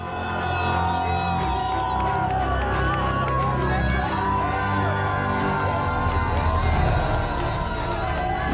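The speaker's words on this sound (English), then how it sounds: "He was reunited with his young family to a chorus of cheers from the crowd" A dense crowd cheers and whoops continuously as sailor Paul Meilhat arrives at the Vendée Globe finish, a loud, sustained roar of voices, shouts and clapping with no pauses.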